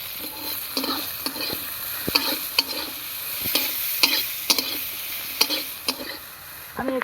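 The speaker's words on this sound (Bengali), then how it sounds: "আমি একটু ভেজে নেব।" Onions fry in a pan with whole garlic and ginger pieces, a constant close sizzle broken by regular sharp stirring clicks and scrapes.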